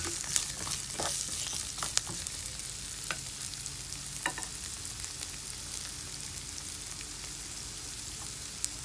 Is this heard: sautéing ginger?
yes